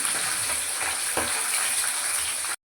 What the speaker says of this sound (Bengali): আমার মা মাছগুলো ভেজে নিচ্ছে একে একে